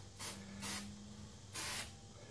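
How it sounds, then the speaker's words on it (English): 3M High Strength 90 contact adhesive hisses from a spray can onto a car headliner in three short, close bursts, the first two quick together and a longer third after a pause, over a low hum. "I'm going to take this and lightly spray. Well, I say lightly spray. I'm going to spray that."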